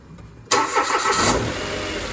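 A Mitsubishi Mirage with an alternator fault cranks and catches after half a second of quiet, then settles into a loud, close idle.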